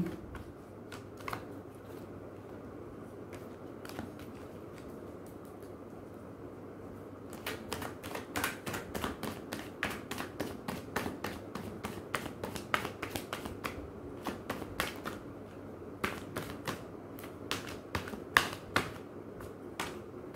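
Tarot cards being shuffled, a long run of quick, faint crisp flicks and taps that grows busier partway through, with no talking.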